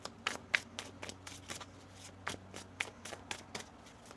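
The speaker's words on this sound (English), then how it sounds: "One more shuffle." Crisp riffling and slapping of tarot cards being shuffled in short repeated bursts, close up, with soft handling noises between.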